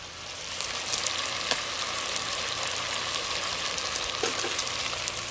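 Onions sizzle in a pan for a massalé lamb chop dish, a steady, dense frying hiss with faint crackles and pops throughout, close and continuous.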